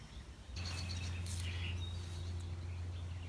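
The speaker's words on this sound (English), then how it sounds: "I hear that bird. He's disturbing my intro right now." A bird sings from the top of a tree on a mountain trail near South Sister, with bright high chirps over a steady low hum, fairly close and clear.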